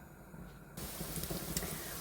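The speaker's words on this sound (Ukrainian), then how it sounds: "Ось так смажаться наші котлетки." Steady crackling sizzle of flour-dusted pike fish patties frying in hot oil in a pan, close and continuous, with a quieter stretch at the start before the frying noise fills in.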